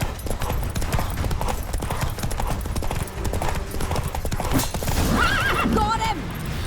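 Horse galloping in The Witcher 3: Wild Hunt, with rapid continuous hoofbeats close up and a whinny near the end, under in-game combat noise and voices speaking.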